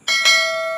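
A single bright bell ding rings out for a subscribe button, striking cleanly with a slight second accent and then sustaining a clear ringing tone that fades slowly.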